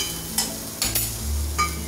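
Chillies, onions and capsicum frying in a pan, a close, steady sizzle with a few scraping stirs of a spoon and clinks against the pan.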